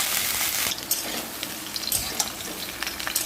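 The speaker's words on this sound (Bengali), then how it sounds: "এবার সেই ফুলকপিটা ভালো করে ভেজে নেবো" Steamed and drained cauliflower fries in a pan with a bright, steady sizzle, broken by scattered clinks and stirring scrapes, close and alone with no voices.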